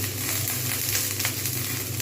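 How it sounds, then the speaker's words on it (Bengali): Cabbage frying in a pan with green chillies makes a dense, steady sizzle, close and even, with no speech. "এবার আমি এর মধ্যে সমস্ত বাঁধাকপিটা আমি এর মধ্যে ঢেলে দেবো।"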